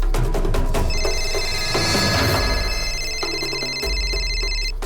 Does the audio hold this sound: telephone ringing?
yes